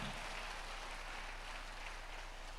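A church congregation claps in steady, dense applause, a continuous wash of many hands heard from a distance, fairly faint and without a break.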